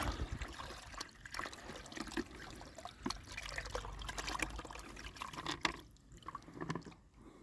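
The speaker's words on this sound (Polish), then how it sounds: "A może tak wleję wodę od razu." Water poured out on the ice during a Polish ice fishing outing, a close, uneven trickle and splash that runs on and off for several seconds, with no one speaking.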